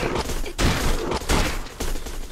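A shotgun fires repeatedly in the video game Gunnheim, three loud, heavy blasts spaced roughly half a second apart, close and dense, with no talk over them.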